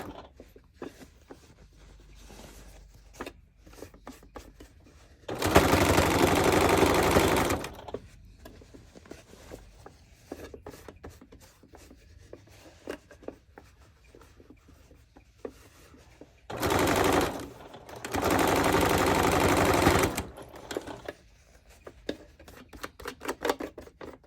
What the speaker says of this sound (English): as we sew them up to the jeans